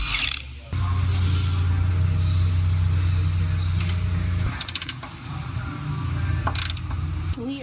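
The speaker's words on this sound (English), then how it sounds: "We are unscrewing the top of the coilover, okay? The top hat." A car coilover's top hat being unscrewed: a loud, steady mechanical whir runs for several seconds, then gives way to quicker ratcheting clicks and rattles close by.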